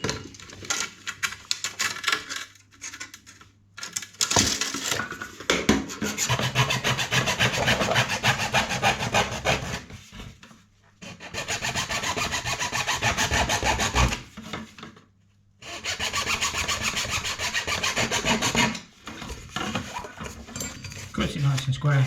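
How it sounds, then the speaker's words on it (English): A junior hacksaw cuts a length of pipe for a shower tray install, making rhythmic rasping strokes in several long bursts between short pauses, close and fairly loud, with some talk between the bursts. "It's obviously not the quickest with a junior hacksaw"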